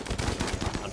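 Rapid bursts of gunfire from a colony battle in the video game Rimworld, dense overlapping shots in quick succession at moderate volume.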